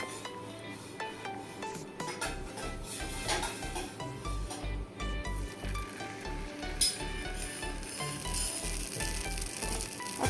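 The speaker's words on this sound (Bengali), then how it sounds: "তেল গরম হয়ে এসেছে, এবার ব্যাটারটা দিয়ে দেবো।" Batter poured into hot oil for a Maggi noodle chakli pitha sizzles continuously, a bright crackling hiss with soft clinks of a pan and utensil beneath it.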